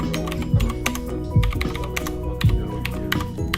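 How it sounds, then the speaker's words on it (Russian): Typing on a Xiaomi Lofree DOT mechanical keyboard with a typewriter style, brisk clacky keystrokes in quick irregular bursts, close and fairly loud, with heavier thumps now and then. "Давайте попробуем что-нибудь напечатать."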